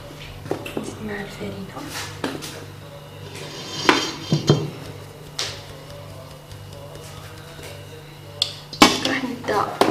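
A spatula mixes galette dough in a bowl, giving scattered scrapes and knocks against the dish under a low hum, with a voice talking in the background.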